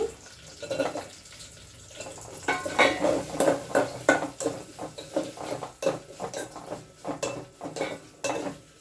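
Chopped onions stirred in hot oil in a pan for a fish curry, with a rapid run of clinking spoon-on-metal scrapes and knocks over a soft sizzle, close and fairly loud, without any talking.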